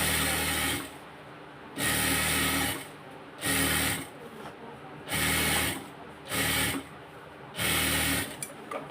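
A sewing machine runs in repeated bursts of about a second each, stitching folded fabric for a pleated salwar, its loud whirring rattle stopping and starting in a steady rhythm with short pauses between runs.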